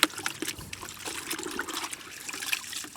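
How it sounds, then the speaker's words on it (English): A dirty cleaning cloth rinsed out in water, with steady trickling and splashing as water runs and drips from the cloth, close and moderately quiet throughout. "I'm going to actually rinse that out and have another go before I wipe that over"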